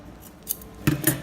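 Two or three quick, crisp metallic snips of scissors trimming excess twine on a crystal wreath, close up and fairly quiet.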